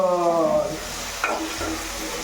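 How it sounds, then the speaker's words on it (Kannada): Two pieces of tomato fry in oil in a pan, producing a loud, continuous close-up sizzle with stirring scrapes throughout and one brief sharper clatter partway through. "ಒಂದು ಟೂ ಮಿನಿಟ್ ಫ್ರೈ ಮಾಡಿ ಚೆನ್ನಾಗಿ ಆಯಿಲಲ್ಲಿ ಟೊಮೊಟೊನ"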